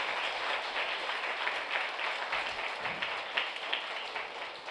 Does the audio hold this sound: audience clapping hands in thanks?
yes